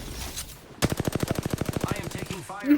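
Rapid automatic gunfire from the Apex Legends video game, a close burst of about twenty quick shots in steady rhythm that breaks off near the end, with faint talk before and after.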